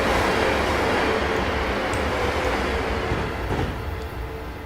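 A passenger train from Train Simulator 2019 runs steadily on the line between Milton Keynes Central and London Euston, producing a continuous loud rumble with faint rail clatter. The noise eases slightly toward the end, with no voices.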